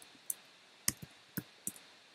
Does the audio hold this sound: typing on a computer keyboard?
yes